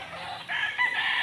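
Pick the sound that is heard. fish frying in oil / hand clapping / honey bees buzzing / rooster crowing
rooster crowing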